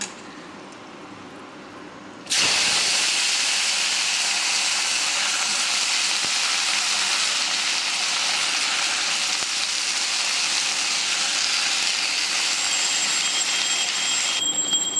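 Bay leaves and vegetables hit a hot pan with dried chilies, setting off a sudden loud sizzle that then holds as a steady, bright hiss of frying for many seconds, with no talk over it.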